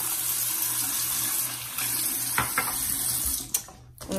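Tap water running steadily into a sink while makeup brushes are cleaned, a continuous close gush that ends with a few clattering knocks and a brief cutoff, no talk.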